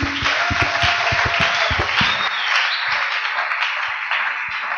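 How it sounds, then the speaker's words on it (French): A church congregation claps in a loud, fast burst that lasts about two seconds and then thins to a few scattered claps fading away. "Applaudissons fort pour lui."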